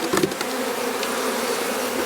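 A dense, loud swarm of honeybees buzzing continuously up close as they are shaken from a nuc box into a hive, with a few sharp knocks at the start.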